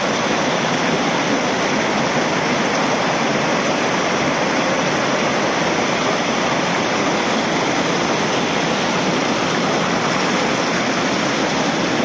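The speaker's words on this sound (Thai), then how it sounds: "น้ำตกตาด" Constant rushing roar of a small natural waterfall near Lacrouzette in southern France, close and loud, an even wash of falling water with no pauses and no one speaking.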